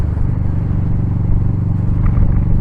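An old tractor engine idles steadily nearby, a loud low chugging rumble with a regular thumping beat and some rattle throughout.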